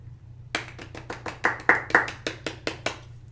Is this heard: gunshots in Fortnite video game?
no